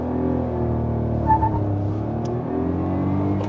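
A 2024 Maruti Swift pulls away in first gear, its engine a steady, moderately loud hum that builds slightly as the car accelerates, with no voices over it.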